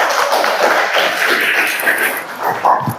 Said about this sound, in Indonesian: Kita berikan aplaus untuk kelompok pertama yang sudah masuk